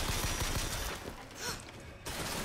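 Rapid turret gunfire in the video game BioShock Infinite, a dense burst of close, loud shots in quick succession that thins out briefly and then resumes, heard alone without speech.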